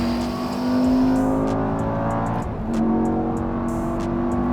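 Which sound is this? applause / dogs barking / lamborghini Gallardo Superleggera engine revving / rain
lamborghini Gallardo Superleggera engine revving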